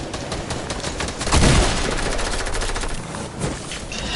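Rapid gunfire rattles through a video game shootout, sustained automatic bursts with a heavier blast near the middle, loud and continuous with no talk over it.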